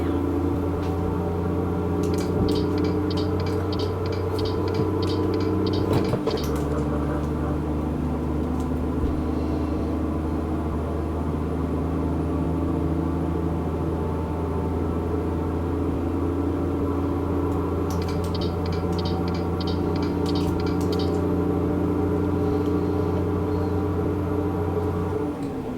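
A truck engine in a trucking video game drones steadily and tonally, a constant hum with a brief shift partway through and faint clicking ticks above it.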